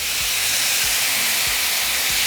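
Meat for street tacos sizzles in a pan with a loud, close, steady hiss, broken by a few soft low thumps.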